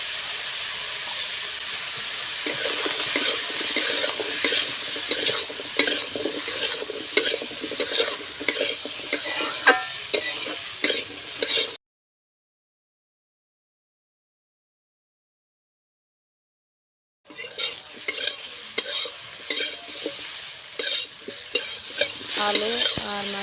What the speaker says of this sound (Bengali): আলু আর মাইরা ভালোভাবে কষানো হয়ে গেছে